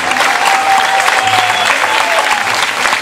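Loud, dense applause from a theatre audience fills the hall without a break, steady and close, with a few voices rising faintly above the clapping.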